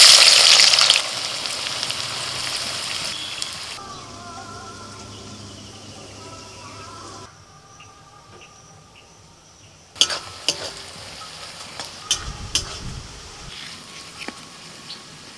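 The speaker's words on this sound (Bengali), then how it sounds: "তেলটাকে খুব ভালো করে গরম করে নিয়ে এবার দিয়ে দিচ্ছি আমি পেঁয়াজ কুচি।" Chopped onions go into well-heated white oil for a Hyderabadi chicken biryani and fry, a loud burst of sizzle at first that settles into quieter crackling, with a few sharp utensil knocks and stirring later on.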